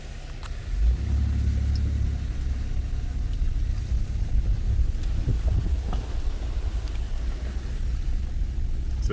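A vehicle climbs uphill over moist, stony ground near Annandale Waterfall, its engine a close, steady, loud rumble that holds from start to finish.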